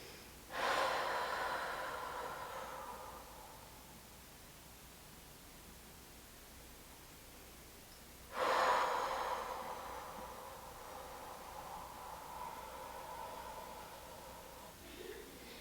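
Two long, heavy breaths during a yoga lizard pose in a hip-focused session, each a loud airy exhale that slowly fades, close and alone with no talking.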